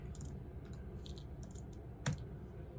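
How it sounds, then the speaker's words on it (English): Typing on a computer keyboard, faint rapid clusters of key clicks in short bursts with one sharper keystroke near the end, heard alone in a quiet room. "Let's type."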